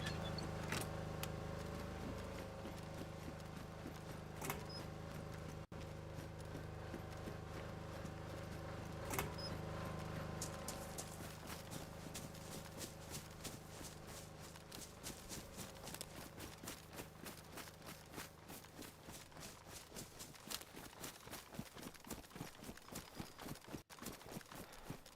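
Footsteps of a character in the survival video game DayZ, on the Sakhal map, a steady rhythmic run of faint, even steps that grows more distinct midway through, with no talking.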